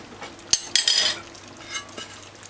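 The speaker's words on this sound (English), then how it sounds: "Just stir it like that." Cabbage and saltfish stirred in a pot, a couple of sharp utensil knocks against the pot followed by a scraping, sizzling stir and a fainter clink near the end, with no talk.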